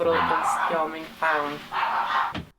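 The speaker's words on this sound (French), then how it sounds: "vous pouvez sortir le chien derrière s'il vous plaît. Il me hurle dessus" A dog barks and yelps repeatedly, close by, with a person talking over it.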